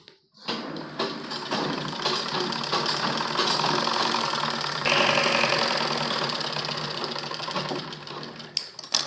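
A sewing machine runs a continuous stitching pass along the edge of a baby frock, a close, steady mechanical whirr that ramps up at the start and chatters briefly near the end.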